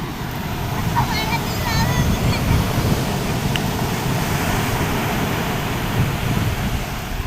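Sea waves wash onto a beach as a steady, loud surf roar mixed with wind noise on the microphone, continuous throughout without clear breaks.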